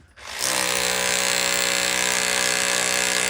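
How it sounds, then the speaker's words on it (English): Jackhammer run one-handed by a worker on a ladder, a loud, steady pounding roar that starts abruptly after a brief quiet moment and holds at constant intensity close up. "one hand is holding the jackhammer"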